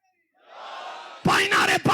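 A crowd at a religious sermon gathering roars a chanted slogan in unison, loud massed voices bursting in after a rising murmur, with short pauses between shouted lines.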